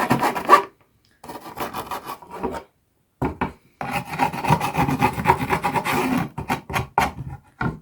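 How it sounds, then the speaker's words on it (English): Metal file rasping splinters off a small wood block, short close scraping strokes in bursts separated by brief pauses, dry and crisp. "this side somehow has a lot of splinters where you can get rid of by just filing them off"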